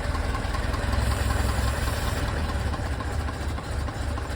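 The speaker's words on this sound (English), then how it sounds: "Car is idling." A car engine with a suspected air leak around the carburettor idles steadily, giving a close, continuous low rumble with a slight uneven knock and no voices.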